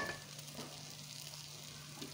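Carrot halwa with coconut and almonds frying in a pan, giving a steady, close hiss and sizzle that runs unbroken throughout, with no talking.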